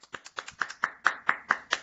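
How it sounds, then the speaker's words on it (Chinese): Brief applause from a small group over open microphones welcoming a speaker, a quick run of separate claps growing slightly denser, thin and close. "大家请打开麦克风，然后以掌声欢迎我们的演讲者"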